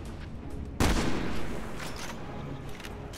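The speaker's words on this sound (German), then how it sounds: "Ah, auf mich wird geschossen." Gunfire in the video game Resident Evil 6: one sharp, loud shot or burst cracks out, then rattling fire trails off over a continuous noisy game background.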